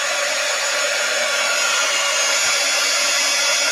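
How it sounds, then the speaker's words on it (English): A heat tool, likely a hot-air gun, blows a steady, loud airy roar with no breaks as it warms and softens old glue in a glue pot, with no talking. "And I'm really not putting that much heat to it. I'm just softening up that glue."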